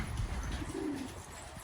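Pigeons kept in a rooftop loft coo in a single short, low murmur beneath a steady background of rumble and noise.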